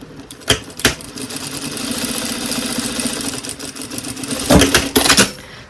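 Sewing machine stitching up the side of a credit card coin pouch: a steady close mechanical whir running for several seconds, bracketed by sharp clicks and knocks at the start and finish, with no talk.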